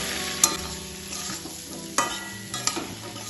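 Fried drumstick stalks and potatoes being stirred with spices in a pan, a low steady sizzle with a few sharp scrapes and clacks of a spatula against the pan, close and unaccompanied by talk.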